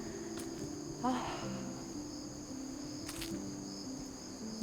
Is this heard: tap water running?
no